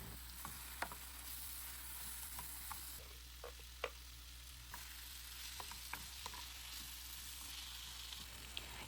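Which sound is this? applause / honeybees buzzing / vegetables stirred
vegetables stirred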